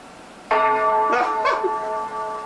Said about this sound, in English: Yes, it's the church bell. One stroke means it's 7:30.